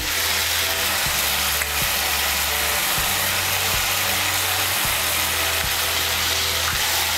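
Tomato paste frying in oil in a pan for a pomfret fish curry, a loud continuous sizzle broken by regular scraping stirs about once a second, close up with no talking.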